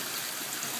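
Water drains steadily from an aquaponics bell siphon, a continuous close hiss and gush of emptying liquid with no pauses and no talking.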